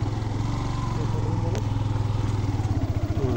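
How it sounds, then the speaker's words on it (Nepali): A motorcycle engine chugs steadily up close in an even, throbbing rhythm as the bike turns around, with a faint voice underneath. "बाइक चाहिँ घुमाउनुहोस्"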